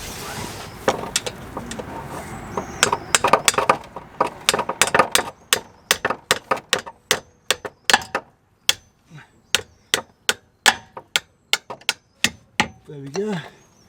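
Hammer striking a metal tool against a car oil filter on a Vauxhall Astra VXR, a long series of sharp metallic knocks, dense at first then steady and evenly spaced, close and loud with a brief voice near the end.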